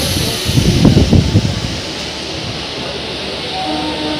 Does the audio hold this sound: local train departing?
yes